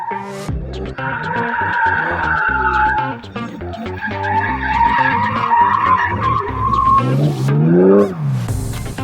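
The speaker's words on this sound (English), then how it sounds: "Bit of sideways action." A BMW drifts sideways around a tight track during passenger rides at a motor show, tires squealing and skidding continuously under a loud, revving engine with rising and falling pitch.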